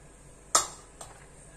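A spoon stirs vermicelli with dry fruits in a pot, giving one sharp metallic clink followed by a fainter tap half a second later over quiet background.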